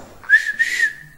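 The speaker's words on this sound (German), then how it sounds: "dann pfeifen Sie doch ganz normal" A person whistles a short two-part tune, loud and close, with a brief pause between the rising first note and the sustained second phrase, heard alone without talk.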